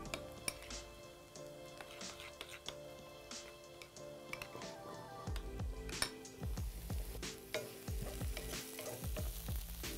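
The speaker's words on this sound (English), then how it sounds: "now let's just mix this together until it's fully combined" A spoon stirs and clinks in a bowl, mixing a sauce of chopped pickles, apple cider vinegar, yellow mustard and sugar, with quiet irregular scrapes and taps up close.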